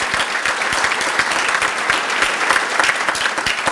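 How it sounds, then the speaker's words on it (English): Sustained applause from a large gala audience honoring staff and volunteers at the SALDEF 2017 National Gala, dense and steady clapping throughout with no talk over it. "give a big round of applause to our staff and our volunteers"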